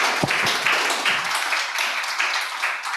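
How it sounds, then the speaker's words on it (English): An audience applauds after a lecture on royal and dynastic British-German relations, with dense, steady clapping that carries on throughout. "I'd like everybody to give John another round of applause for his excellent talk."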